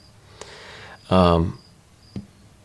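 Faint cricket chirps pulse in the background, briefly covered by a short voiced sound in the middle, with a couple of sharp clicks.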